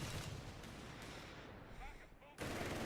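Machine gun fire and explosions in the strategy game Company of Heroes 3: a dense, continuous rattle of gunfire mixed with battle noise, fairly quiet, with a sharp louder burst near the end.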